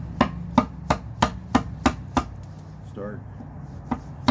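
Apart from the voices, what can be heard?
carving wood with a gutter adze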